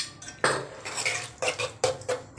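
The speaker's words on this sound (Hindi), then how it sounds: "अब इसमें हम 2 चम्मच दही डाल रहे हैं और इसको भी भून लेंगे" A spoon clatters and scrapes against a pan while minced meat is fried with yogurt for matar qeema, giving a handful of sharp metallic knocks and scrapes in quick succession, close and clear with no voices.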